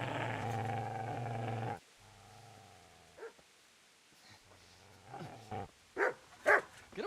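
A dog in the medieval game Kingdom Come: Deliverance lets out a low, rumbling growl, then falls quiet before a few sharp, brief snarls and yaps break out near the end.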